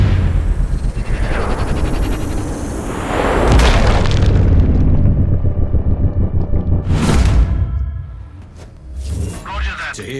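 A loud boom from an explosion in the video game Sniper Ghost Warrior Contracts 2, with a heavy rumbling body that swells and lingers, followed by bursts of noise and further crackling impacts under game sound.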